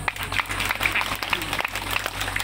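Audience clapping at a Sumba family cultural gathering in a village, uneven and moderately loud across the short stretch, with separate claps standing out and some voices mixed in.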